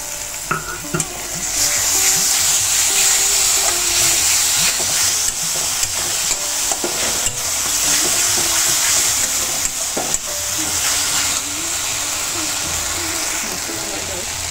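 Spices frying in a pan for a Bengali bele fish curry: a loud, steady hiss and sizzle with a spoon clicking and scraping now and then, brief soft voices faintly underneath.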